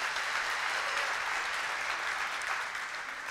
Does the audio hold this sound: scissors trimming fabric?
no